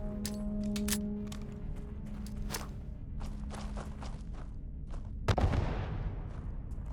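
Pistol shots in the space game Starfield: a few sharp cracks spaced irregularly over a steady ambient game hum, the last one heavier and followed by a brief rumbling tail.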